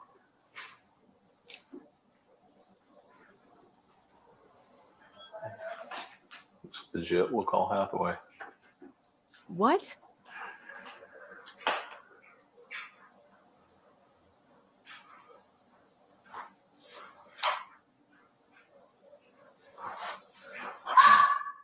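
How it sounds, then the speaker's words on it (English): Small yippy dogs barking, yipping and whimpering in scattered short bursts, some close and some farther off, between quiet gaps, with brief speech mixed in. "Oh, those yippy dogs."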